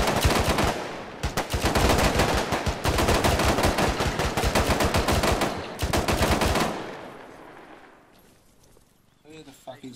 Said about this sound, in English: Got rounds landing around me, taking fire.